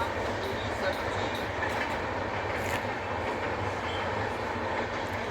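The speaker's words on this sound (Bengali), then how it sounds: "দূরে ট্রেন যাচ্ছে কি সুন্দর" A train rumbles along steadily in the distance, its wheels clattering under a constant broadband roar that fills the whole stretch without any break.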